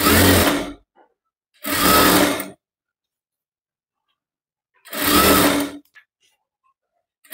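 A sewing machine stitching a boatneck blouse whirs in three loud, close bursts of under a second each, separated by silent gaps.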